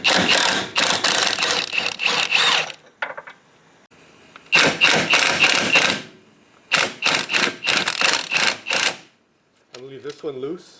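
Ratcheting wrench work removing 14mm bolts from the trailing arm of a Hyundai Elantra: several bursts of rapid, loud, close clicking separated by short pauses, with a brief voice near the end.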